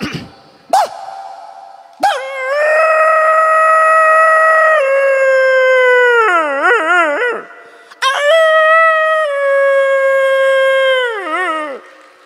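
A human voice imitates a dog howling in long, wavering, sliding tones, two drawn-out howls after a short yelp, loud and close.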